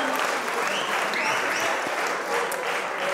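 A comedy-show audience breaks into applause, a dense, even wash of many hands clapping that holds steady for a few seconds without fading.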